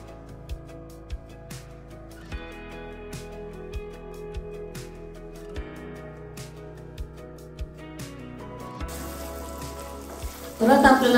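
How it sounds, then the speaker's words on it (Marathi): Tomato chutney sizzles and is stirred in a pan while it sautés, with steady frying noise under background music that has regular percussive beats. The sizzle grows louder near the end. "परत आपल्याला 2 ते 3 मिनिटं टमाटर चटणी परतून घ्यायची आहे।"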